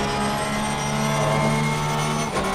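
A 2018 Porsche GT3R race car engine in Assetto Corsa Competizione drones loudly and steadily with a sustained harmonic whine, holding pitch with a slight shift near the end and no talk over it.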